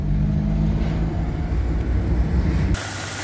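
The 1.0-litre engine of a 1985 Daihatsu Charade G11 runs with a steady low hum heard from inside the moving car, and the tone shifts abruptly near the end.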